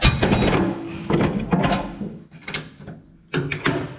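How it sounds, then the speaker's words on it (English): A wrench comes off a large-area lawn mower with loud, close metallic clunks and ratchet-like clicks in short bursts, separated by brief pauses. "You're going to be able to get the wrench off?"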